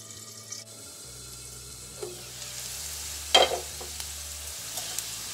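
Salted potatoes fry in oil in a pan, giving a soft steady sizzle with a brief clatter of stirring midway.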